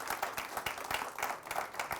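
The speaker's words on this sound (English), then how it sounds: "that deserves a round of applause" An audience at a women's brands awards event in Kenya breaks into a round of applause, the clapping coming in uneven pulses of many hands, moderately loud and close, with no speech over it.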